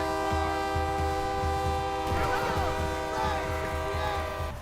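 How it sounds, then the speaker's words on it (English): Train sound effect with a loud, sustained multi-tone train horn blaring over a rhythmic low rumble of rolling wheels, continuous and close throughout. "would that hit 5 for the train sound effect?"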